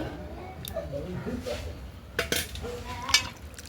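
Metal spoon stirring oil into a fish curry in a pot over a village wood-fire stove, giving a few scraping clinks and scrapes against the pot with a louder knock near the end, under faint background voices.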